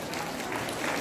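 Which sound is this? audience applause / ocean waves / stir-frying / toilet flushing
audience applause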